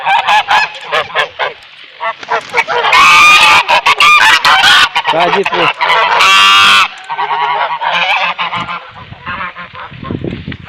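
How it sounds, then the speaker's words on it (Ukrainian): Geese honk loudly and close by a river on a frosty day, a noisy flock calling in dense overlapping bursts, with a voice speaking briefly among them. "Гуси щось тут сидять."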